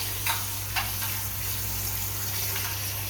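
Small pieces of dry red chilli sizzling in hot oil in a wok, a steady, close frying hiss with a couple of faint pops and no talking.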